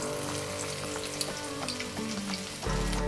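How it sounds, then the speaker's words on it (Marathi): Crushed garlic cloves dropped into hot oil for a Maharashtrian katachi aamti tempering, giving a loud, steady frying sizzle that jumps in intensity near the end as more goes into the pan; no talk. "आपलं तेल छान तापलंय। आता ह्याच्यात 8 ते 10 ठेचलेल्या लसूण पाकळ्या घालायच्या आहेत।"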